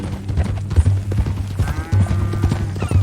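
Horse hooves clip-clop at a steady walking rhythm in Red Dead Redemption 2, close and fairly loud, with the creak of tack and a low hum beneath, and no speech over it.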